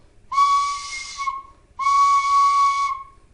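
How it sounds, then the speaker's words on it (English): Two sustained, clear notes on a Clarke tin whistle, each held about a second with a pause between, breathy and bright, played alone. "then just blow straight through the whistle"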